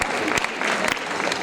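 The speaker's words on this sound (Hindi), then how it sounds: "एक बार तालियों के साथ अभिनंदन" Brief burst of audience clapping at an honouring ceremony after a classical dance memorial event, dense and fairly close, with a voice faintly over it.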